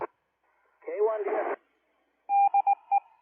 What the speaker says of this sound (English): And we got Morse code.